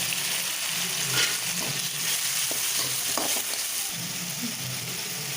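Fennel seeds sizzling in hot oil in a pan for a Tamil crab fry, a steady close hiss with a few faint stirring clicks throughout, no voices.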